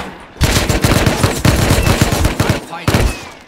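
Rapid gunfire from a Python revolver in a first-person shooter, loud bursts of repeated shots filling most of the stretch with brief gaps, with faint talk underneath.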